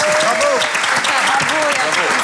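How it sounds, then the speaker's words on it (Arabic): A studio audience claps loudly and continuously, a dense, even burst of applause with voices mixed in beneath it. "تصفيقة كبيرة عليهم"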